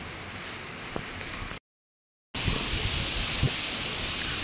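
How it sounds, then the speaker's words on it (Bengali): Rain falls with wind blowing through trees at night, a broad steady wash of noise broken by a brief total dropout before resuming; no one speaks. "জল বৃষ্টি সবই হচ্ছে, বৃষ্টি হাওয়ার গাছ, হাওয়াও রয়েছে"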